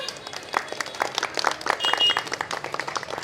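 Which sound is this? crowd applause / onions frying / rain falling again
crowd applause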